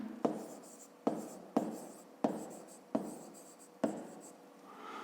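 Someone writes out a fifth-grade math exercise in a series of distinct strokes, each starting with a sharp tap and trailing off in a scratchy scrape, close and fairly quiet.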